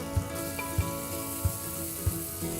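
Sausage meat frying in a pan with onion and garlic for a risotto, a steady close sizzle with a few soft thumps from stirring, no talk.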